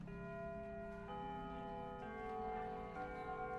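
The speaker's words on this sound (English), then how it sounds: "sounds like that's the warning bell" Warning bell chiming in a visual novel video game, sustained ringing tones in repeated strikes about a second apart, each overlapping the last, steady and fairly loud with no talk.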